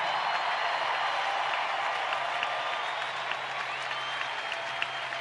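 A stadium crowd of 38,000 in Kansas City cheering and applauding, a dense continuous wash of clapping and roar at a steady level from start to finish, heard from a distance with no individual voices standing out.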